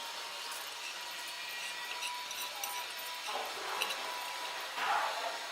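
A mixer grinder grinding soaked urad dal and rice for batter: a steady whirring, grinding hum throughout, fairly quiet, with a few brief surges and rattles toward the end.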